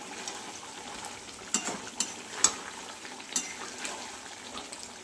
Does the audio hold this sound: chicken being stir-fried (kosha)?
yes